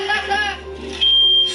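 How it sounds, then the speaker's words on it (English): Smoke alarms in a house go off, a shrill, steady electronic beeping that is loud and continuous and becomes a sustained high tone partway through, under a constant low background hum. "Smoke alarms are going off."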